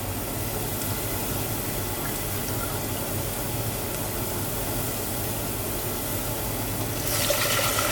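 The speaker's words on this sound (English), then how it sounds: "So I'm going to add the 1 cup of rum." A cup of rum pours into cooked-down onions in a pan, giving a steady, even hiss and sizzle that brightens near the end.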